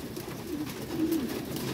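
Pigeons softly coo in a pigeon loft above a vermicompost worm farm, a faint low murmuring coo or two over steady background hum.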